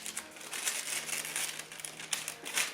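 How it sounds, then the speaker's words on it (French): Tissue paper crinkles and rustles continuously as a small gift from an advent calendar is unwrapped, close up and fairly quiet, with no voices. "C'est dans un petit papier de soie."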